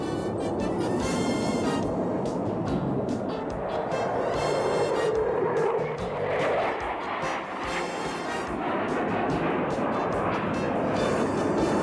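F-15 Eagle fighter jets climbing out after an alert scramble, a loud continuous roar of jet engines sustained throughout with a rising tonal whine around the middle.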